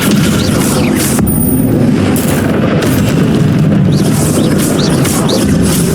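A Descendo spell impact in Hogwarts Legacy, a loud, dense booming crash that fills the whole stretch with heavy rumbling and bursts of debris, no talk.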